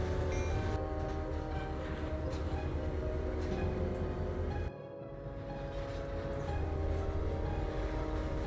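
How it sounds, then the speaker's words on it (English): Santa Fe SD40U diesel locomotives switch at a junction with a continuous low engine rumble and mechanical clatter, dipping briefly partway through before building back up. "Santa Fe SD40Us 6315 and 6317 were switching for their oil loco run around Shoreline Junction"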